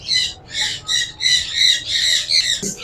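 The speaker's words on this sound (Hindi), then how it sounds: "ये भी माशाल्लाह सनकनूर का ब्रीडर पेयर है" Sun conure parrots at a Sunday bird market in Bahawalpur give a run of loud, harsh squawks, about eight sharp bursts in under three seconds, close by with no talk.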